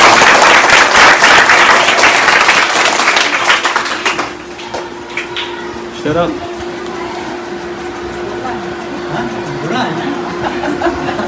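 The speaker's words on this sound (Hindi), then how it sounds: "तालियों से उनका स्वागत है।" Clapping from a school audience in Varanasi welcomes a professor to the stage, loud and dense at first, then thinning out after about four seconds into scattered claps and low murmuring.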